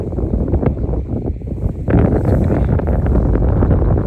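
Wind buffets the microphone in a steady, low rumbling roar while float fishing beside reeds in spring, gusting harder after the first couple of seconds and continuing throughout.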